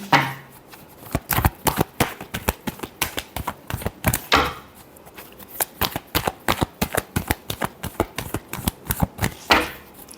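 Tarot cards are shuffled by hand in rapid bursts of crisp riffling and slapping, with short pauses between rounds, heard close up and alone.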